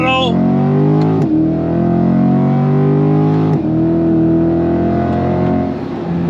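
A 2026 Chevrolet C8 Corvette Z51 with its naturally aspirated 6.2-liter LT2 V8 pulls hard, rising steadily through two quick upshifts, loud and close from inside the cabin, with a voice talking over the engine.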